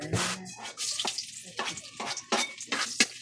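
Tortang talong, an eggplant omelette, frying in oil in a pan, with steady close sizzling broken by repeated stirring and utensil scrapes against the pan.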